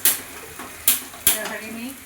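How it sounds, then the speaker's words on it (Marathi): Tomatoes sautéing in oil in a pan for cashew biryani: a few sharp metallic clanks of a spatula against the pan spaced over two seconds, with a soft sizzle underneath. "पण शिजेपर्यंत व्यवस्थित त्याचे तेल सुटेपर्यंत टॅमॅटो परतत राहायचे।"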